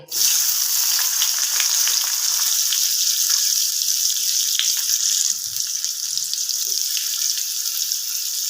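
Chopped onion hits hot oil and sizzles loudly and continuously, a bright hissing crackle that eases slightly partway through, with a few faint clinks of stirring.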